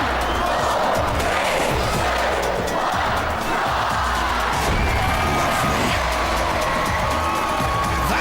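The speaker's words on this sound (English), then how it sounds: "A washing machine on your head, son." On the Robot Wars arena floor, the house robot Sir Killalot drops a washing machine onto a competitor robot as a loud crowd roars and cheers continuously, with metallic bangs and slams breaking through the noise.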